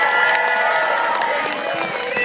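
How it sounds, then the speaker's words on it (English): An air show crowd in Northern Michigan cheers and whoops for parachutists landing on target, a loud, continuous burst of mixed voices and applause with a few higher whistles or shouts. "Give them a cheer, everybody."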